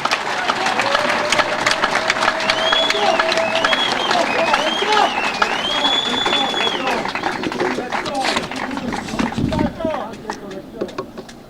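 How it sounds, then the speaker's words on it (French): A political rally crowd applauds for a head of state, clapping mixed with shouting voices and shrill whistles, loud and continuous before thinning toward the end. "Applaudissez très fort pour le chef de l'État."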